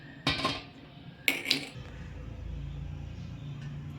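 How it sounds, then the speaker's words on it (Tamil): A metal kadai pan clanks down onto a stovetop with a couple of sharp clinks, followed by a low steady hum. "அடுப்பத்தை வச்சு ஒரு கடாய் வச்சுக்கலாம்"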